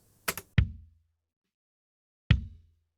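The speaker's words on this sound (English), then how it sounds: "Now, with the V comp on," Three compressed drum hits sound close and dry: a quick pair of strikes, then a single hit after a pause. A Waves V-Comp compressor evens out the difference between softer and harder hits.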